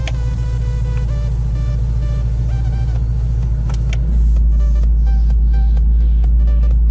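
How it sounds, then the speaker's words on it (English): Supercar with an active exhaust heard from inside the cabin, a loud steady engine drone that deepens and grows heavier partway through as the exhaust is switched into sport mode, with a few faint clicks over it. "the most interesting toggle switch of them all here is the active exhaust. So we're gonna take a listen here from inside the vehicle."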